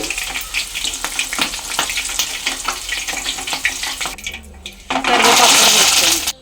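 Green chillies frying in a pan with a soya snack, a close crackling sizzle under a woman's speech, swelling into a louder, brighter burst of sizzling near the end.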